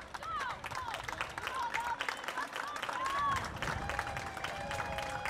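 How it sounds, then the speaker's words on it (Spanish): Stadium spectators at a Mexico vs United States women's under-20 football match applaud an injured player leaving the field: distant scattered clapping and crowd noise, with shrill whistles and voices over it. "Aplauden a Ava Mendoza en su salida."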